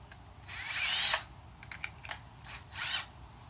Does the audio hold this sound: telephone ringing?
no